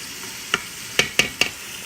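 Garlic and vegetables sauté in a soup pot for black-eyed pea soup with ham hocks, close and loud, with four sharp utensil scrapes and knocks over a soft sizzle.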